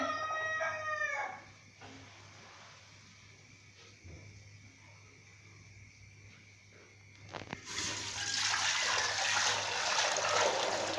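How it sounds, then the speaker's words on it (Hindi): A rooster crows at the start, then quiet kitchen noise, followed by a steady splashing rush of water filling a cooking pot for several seconds while making chicken biryani. "इसमें पानी डालेंगे,"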